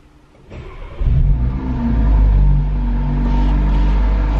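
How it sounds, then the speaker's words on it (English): A Mercedes-Benz car engine cold-starting in an underground car park: a brief crank, then the engine catches into a loud, steady low rumble that settles into a fast idle, close by and alone. "that's just a cold start. It sounds so good."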